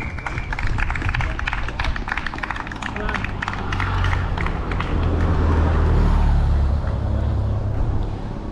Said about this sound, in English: Oh, look at the team car, Ribble.